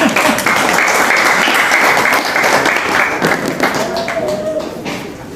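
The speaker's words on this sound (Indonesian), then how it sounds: "Jadi perlu aplaus kepada DDI Abrad." An audience at a religious organisation's inauguration gathering applauds: loud, dense clapping from many hands fills the room, then slowly thins and fades toward the end.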